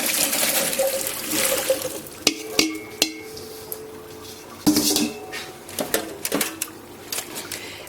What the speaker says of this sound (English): take these directly to your stock pot and dump them in the boiling water